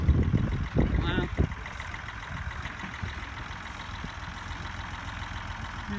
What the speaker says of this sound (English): Oh, look at this tractor coming.